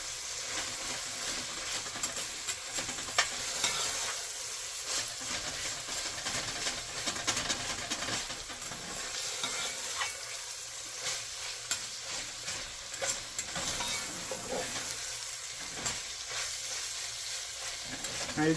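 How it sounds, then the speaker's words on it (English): Lasagna soup simmering in a pot and getting a quick stir, with a steady sizzling bubble and soft scraping movements running throughout at a moderate, close level, no voices. "I'm going to give everything a quick stir"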